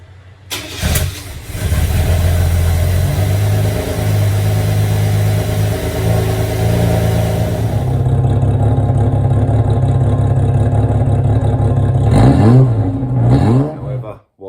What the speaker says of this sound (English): I managed to get the car running.